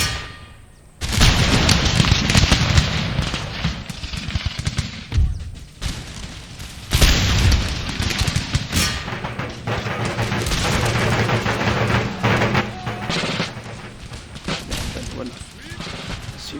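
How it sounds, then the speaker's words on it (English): Infantry ranks fire volleys in Empire: Total War, a battle game. Dense crackling musketry and booming shots roll on almost without pause. A voice talks over part of it. "See those ranks firing."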